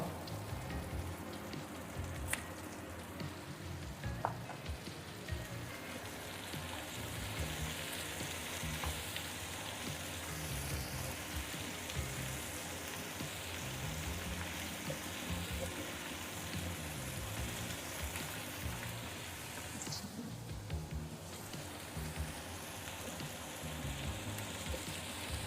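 Tomatoes frying in a pan with golden-browned onions for peanut chutney, giving a steady, dense sizzle that stays even throughout, close and moderately quiet, with no voices.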